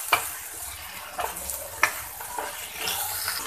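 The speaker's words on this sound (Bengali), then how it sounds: "মশলাটার সঙ্গে লাউগুলো আমি খুব ভালোভাবে মিক্স করে নেব।" Bottle gourd stirred into spice paste frying in a pan: a steady sizzle with a few distinct scrapes and clacks of a spoon against the pan, close and moderately loud.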